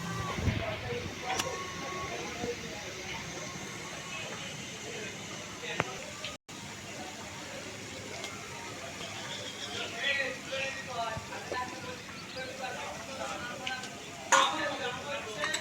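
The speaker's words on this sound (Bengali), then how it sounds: "এবারে কেটে রাখা ঝিঙেগুলো আমি তাওয়ার মাঝখানে খুব সুন্দর করে সাজিয়ে বসিয়ে দেব।" Sliced ridge gourd sizzles steadily on a hot tawa, a continuous crackling fry with faint clinks of a utensil, heard close under a quiet background.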